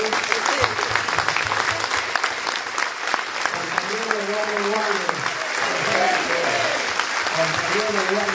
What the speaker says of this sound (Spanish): de pie le dedicáramos un aplauso muy fuerte al compañero Eduardo Duhalde